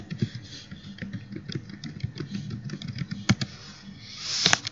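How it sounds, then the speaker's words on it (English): Keys tapped on a computer keyboard, a quick irregular run of soft clicks heard close over a low background hum. "First, we're going to go ahead and type in a different page."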